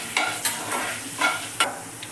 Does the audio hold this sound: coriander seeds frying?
yes